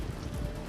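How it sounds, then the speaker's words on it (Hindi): Heavy rain with strong wind and lightning pours down in Navsari, Gujarat, as a dense, steady hiss of drops beating on surfaces, loud and continuous with no voices. "गुजरात के नवसारी में तेज हवा और बिजली के साथ हुई झमाझम बारिश"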